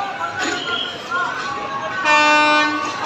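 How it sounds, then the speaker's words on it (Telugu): A train rolls along a newly laid railway track at an underpass construction site in Anantapur, rumbling near, then sounds a loud sustained horn, with voices talking over it. "చూడండి, ట్రైన్ అయితే వస్తుంది"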